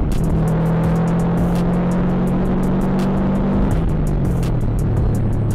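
A four-wheel drive Subaru rally car drives with its engine droning steadily, then the pitch drops suddenly as the clutch is dipped before the note settles lower, with sharp clicks and road noise over it and no talk.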